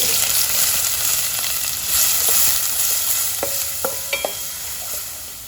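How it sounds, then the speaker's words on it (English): Finely chopped onion sizzling in about two tablespoons of hot oil in a pan, a steady close broadband fry with a few light clinks of a spoon stirring near the end; no talking. "I'm adding in about 2 tablespoons of oil. In this goes the onion which we have chopped very fine."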